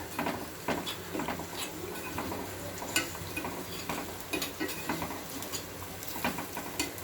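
Crushed cumin and pepper fry in a pan for rasam, giving a light crackle with irregular pops and stirring taps, soft and close with no talking.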